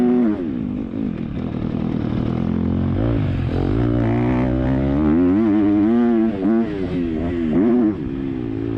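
A motocross motorcycle rides a lap of a dirt track, its engine loud and close throughout, revving and dropping steadily as it works through the course, with no talk over it.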